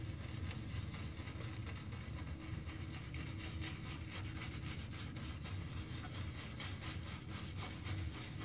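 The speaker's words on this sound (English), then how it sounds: "I'm just kind of palm lathering it in my hand" A West Coast shaving brush works shaving soap into a lather in the palm of a hand, a close, steady wet rubbing and swishing with a fast, even rhythm.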